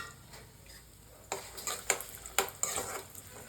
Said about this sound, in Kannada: ಬಾಣಲಿಗೆ ತುಪ್ಪ ಕಾಯಕ್ಕಿಟ್ಟು ಡ್ರೈ ಫ್ರೂಟ್ಸ್ನ ರೋಸ್ಟ್ ಮಾಡ್ಕೊಳ್ಳೋಣ